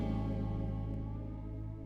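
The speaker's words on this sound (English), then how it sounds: "there was this really cool ending of the song where it was like a boom" A boom sampled from the ending of a song hits at full strength, then sustains as a dense, low, reverberant tone that slowly decays over about two seconds.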